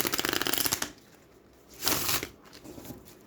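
A deck of tarot cards is riffle-shuffled in a rapid, crisp burst, followed after a pause by a second shorter shuffle, close and clear with no talking.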